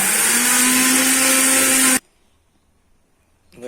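Mixer grinder grinding spice powder: a loud, steady, high-pitched motor whir with a constant hum that stops abruptly partway through, followed by near silence and a faint rustle.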